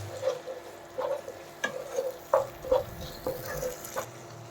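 Methi rohu fish curry with a little water stirred in a pan, a soft wet scraping and gentle sizzle repeating about once a second, close and fairly quiet, no talk.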